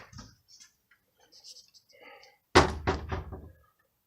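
A single solid thunk of a door swinging and knocking, loud and close, with faint murmured talk in the quiet before it.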